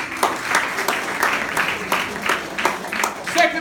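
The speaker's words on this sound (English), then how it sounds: "Give yourselves a round of applause." Audience at a school event at a Colombo college claps in a steady round of applause, moderately loud with distinct individual claps, while a voice can be heard over it.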